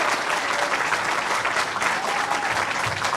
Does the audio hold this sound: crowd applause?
yes